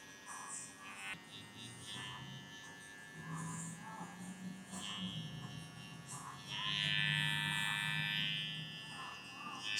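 Babyliss Pro hair clippers cutting hair, a steady high electric buzz that runs throughout and swells louder toward the end, with faint talk-like murmur underneath.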